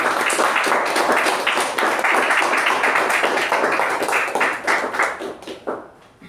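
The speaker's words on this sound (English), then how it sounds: "let's give a big round of applause for both the evaluators and the speaker" A meeting audience gives a round of applause to a speaker and evaluators, dense sustained clapping from many hands that tapers off toward the end.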